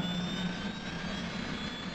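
A T-45C Goshawk trainer jet engine idling just after startup, a steady, continuous turbine whine with a low rumbling roar and a high tonal hum, heard close and unbroken.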